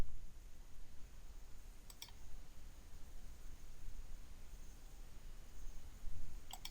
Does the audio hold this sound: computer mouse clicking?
yes